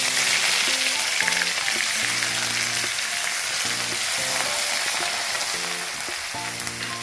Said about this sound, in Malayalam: അതിലേക്ക് ചതച്ച് വെച്ചിരിക്കുന്ന വെളുത്തുള്ളിയും ഇഞ്ചിയും കൂടെ നമുക്ക് ഇട്ട് കൊടുക്കാം